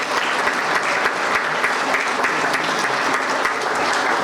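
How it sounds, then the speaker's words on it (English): Sustained applause from a dinner audience at a community progress dinner, dense and even clapping throughout with no voices standing out. "give each other a round of applause again"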